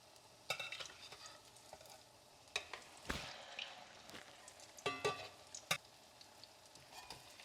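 Salmon croquettes frying in a pan after being flipped, a faint soft sizzle broken by scattered spatula scrapes and clatters of the pan.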